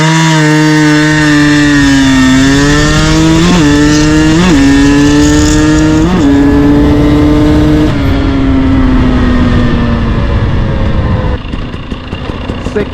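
A KTM 300 TPI Erzberg 2021 motorcycle accelerates hard in third gear, its loud, close engine rising steadily in pitch with several brief dips as the revs climb, then easing off near the end.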